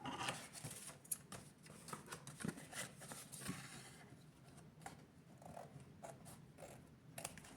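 Scissors trimming leftover paper edges on a handmade Christmas cat folio: a run of quiet, irregular snips and crisp paper rustles close by at low level, with no talking.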